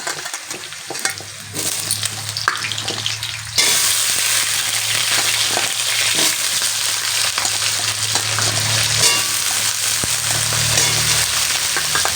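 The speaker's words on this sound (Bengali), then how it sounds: "আলুটাকে এভাবে হালকা একটু লাল লাল করে কিন্তু ভেজে নেবে" Cut potatoes and garlic fry in hot oil in a pan for a spinach dish, giving a loud, close, continuous sizzle that swells when the potatoes go in and holds steady, with occasional stirring scrapes underneath.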